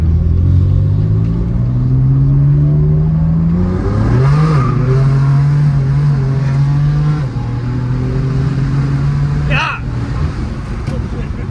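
A 2020 BMW M2 Competition with a custom tune revs hard on a dyno, its engine note climbing steadily for several seconds, holding a loud sustained drone, then dropping off as someone talks over it.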